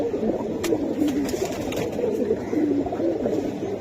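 Giribaj pigeons for sale coo softly and repeatedly nearby, low rolling calls overlapping in a steady murmur against a faint background of room noise.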